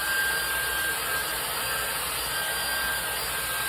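A constant loud whooshing blower hum with a steady high whine, like a hair dryer running close by without pause.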